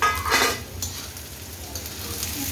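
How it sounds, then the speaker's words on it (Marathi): Chopped ivy gourd pieces fry in a hot pan, with a steady close sizzle and a brief scraping stir near the start. "लगेच आपल्याला हे तोंडली चिरलेली याची टाकून घ्यायची"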